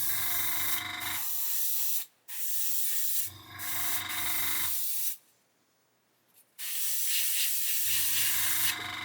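Airbrush spray hissing onto a piece of oiled card in a quick test, sounding as two broad, steady bursts of close hiss several seconds long, each separated by a quiet gap.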